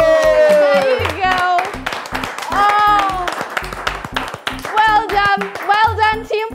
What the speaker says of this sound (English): We have to clap for them again